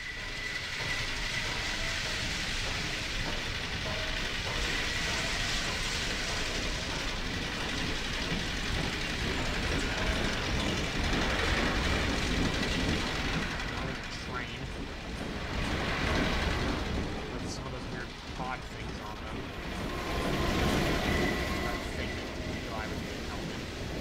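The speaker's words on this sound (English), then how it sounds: "Oh, geez, that train almost hit us." A train in the video game Half-Life 2 rumbles past loudly, its wheels clattering in a continuous, dense roar that swells and eases slightly over the whole stretch.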